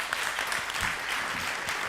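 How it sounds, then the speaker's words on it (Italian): Steady applause from an audience at a book presentation in Roverbasso, greeting the bishop, a dense continuous clapping that fills the room without any voices over it. "Facciamo un applauso anche al nostro vescovo."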